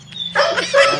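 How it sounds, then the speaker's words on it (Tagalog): Big dog giving a short, loud bark close by, a single rough yelp rising sharply after a brief quiet moment. "Ang laki ng aso niyan."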